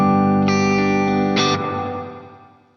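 Guitar tone through a Line 6 POD Go Glitz reverb with modulation added, two sustained strummed chords blooming into a shimmering, chorused wash that slowly decays to a quiet tail.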